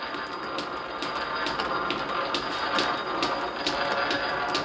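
A belt and pulley line shaft drives an old workshop lathe, producing a loud, steady mechanical whir with a regular ticking slap of the belt repeating throughout.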